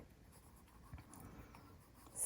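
HB pencil sketching on paper, soft scratchy strokes, close and quiet, with light irregular rhythm and a slightly louder stroke at the end.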